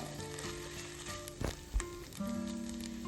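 Green chilli and ginger garlic paste sauté in a hot pan for okra mappas, a steady close sizzle with a couple of brief stirring knocks, no talking.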